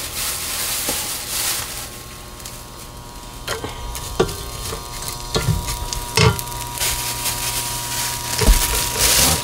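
Dried pollack stir-frying in sesame oil for a rich pollack soup: a steady sizzle runs throughout, broken by sharp clicks and scrapes of stirring. No voices are heard.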